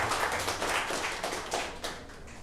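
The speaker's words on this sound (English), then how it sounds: "All right, a round of applause," A live-streamed audience applauds after a presentation at an online metaverse browser event, a steady wash of clapping with scattered louder taps across the whole moment.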